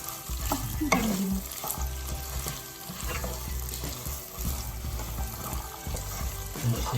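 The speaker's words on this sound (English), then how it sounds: "এভাবে কিছুক্ষণ ভাজি করবো।" Food frying in a pan with continuous sizzle and repeated stirring scrapes, moderately close, accompanied by occasional clinks and a low background hum.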